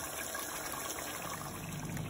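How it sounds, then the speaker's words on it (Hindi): Water is poured from a glass into a pot of frying potatoes with meat for aloo gosht, a soft, steady rushing hiss throughout, fairly faint and with no talking. "फिर मैं इसके लिए इसके अंदर शोरबे के लिए 1 गिलास पानी डालूंगी।"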